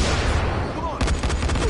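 Rapid gunfire in the zombie game Dying Light, a burst of several close, loud shots in quick succession over a dense, noisy game soundtrack.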